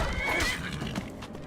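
A horse in Skyrim Anniversary Edition lets out a loud, close whinny over clip-clopping hooves, a short burst that fades into trailing hoof sounds.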